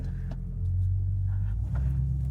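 Heard from inside the cabin, the 1967 Buick LeSabre engine idles with a freshly rebuilt carburetor, giving a steady, loud, low rumble and no talk over it.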